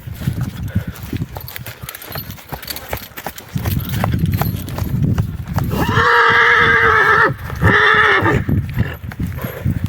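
Hooves clop and shuffle nearby, then a horse lets out a loud, drawn-out neigh in two long bursts, with no speech, as a stallion is brought to a mare for breeding.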